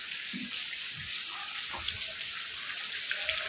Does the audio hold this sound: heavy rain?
yes